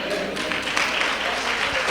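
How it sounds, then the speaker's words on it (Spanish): A church congregation applauds, with dense, sustained clapping filling the space for a couple of seconds while a preacher's voice carries on over it. "Si le va a ofrendar palmas al Rey de Reyes, désela duro, porque son de Él."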